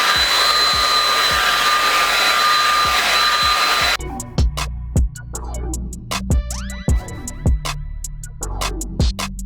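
A hair dryer blows on natural hair, a steady loud whine for about four seconds that cuts off, followed by sparse thumps, clicks and brief tonal sounds of handling.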